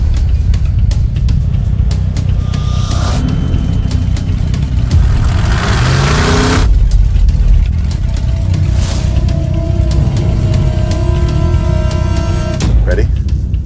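The Hemi-powered dump truck Stubby Bob revving in the desert, a loud engine that surges and drops through several bursts with people talking over it.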